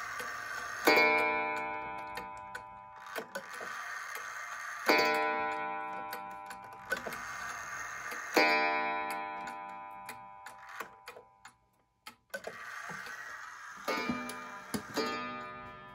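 Ansonia gingerbread kitchen clock with its bell intact, ticking steadily while loud bell strikes ring out about every four seconds and decay slowly, close and alone.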